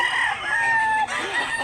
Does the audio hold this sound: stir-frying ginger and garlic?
no